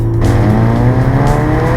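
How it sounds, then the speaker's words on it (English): A 2014 Scion FR-S engine revs loudly and up close, its steady note climbing in pitch as it accelerates through the gears with no talk. "just really enjoy going through the gears and listening to the engine notes"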